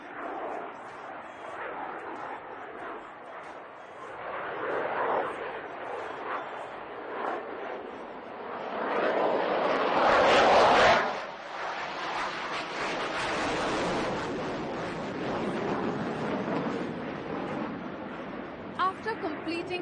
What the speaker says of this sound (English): Performing a minimum radius turn right in front of you. Can you imagine such a fast aircraft carrying out such a short turn?